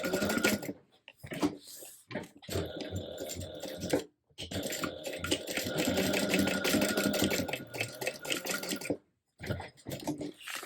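A sewing machine stitches an eighth-inch basting seam on a clear Oro Rosa Catalina bag, humming close and steady for most of the clip, broken by brief pauses.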